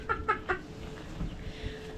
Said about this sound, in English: See all the big chickens.